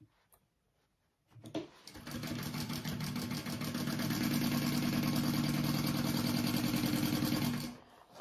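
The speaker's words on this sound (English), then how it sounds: "I'm going to sew up the sides" A sewing machine stitches up the sides of a hobo bag in one continuous, steady run of rapid needle chatter that rises slightly in speed before stopping, following a few quiet handling clicks.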